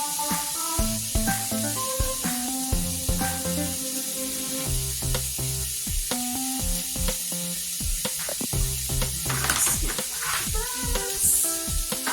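Chicken pieces crowded together in a pan, a continuous sizzling hiss beneath steady background music, with occasional louder spitting bursts.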